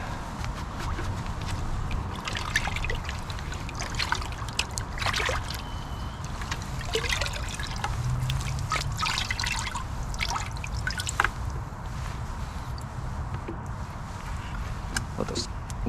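A cleaning rag soaks and sloshes in a water rinse bucket during car wheel and brake-dust washing outdoors. Water trickles and dribbles continuously, with occasional splashes, over a steady, fairly loud background while a person talks.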